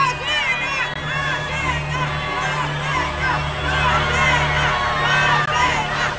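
A studio crowd at the Polish Big Brother final shouts, whoops and cheers in a steady noisy wave, with excited voices rising and falling over a low background hum.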